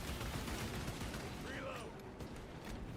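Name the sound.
bolter gunfire in a Warhammer video game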